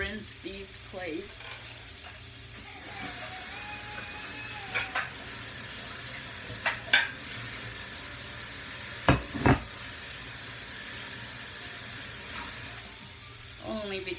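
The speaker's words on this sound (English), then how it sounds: "I'm just gonna rinse these plates." Plates rinsed under running kitchen tap water: a steady hiss of flowing water lasts about ten seconds, with a few faint clinks, and quieter sounds come before and after.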